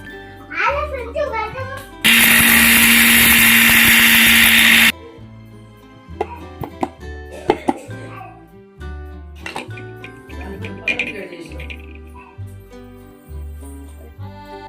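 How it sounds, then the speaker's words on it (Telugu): A kitchen mixer grinder whirs loudly and steadily for about three seconds while grinding five cardamom pods, six cloves and two bay leaves for a village-style country chicken curry, followed by clatter and voices. "ఒక ఐదు ఇలాచి వేసుకోవాలి ఆరు లవంగాలు రెండు బిర్యానీ ఆకులు వీటినన్నింటినీ మెత్తగా గ్రైండ్ చేసుకోవాలి"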